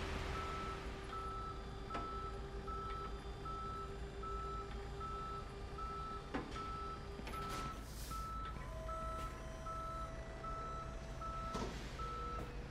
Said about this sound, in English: I love this, this tow truck, man.